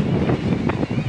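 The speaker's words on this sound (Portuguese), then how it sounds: "Vento pra caramba." Strong wind gusting across the microphone on a hillside bicycle pilgrimage route along the Camino de Santiago, a steady broadband roar with swelling gusts throughout and no talk.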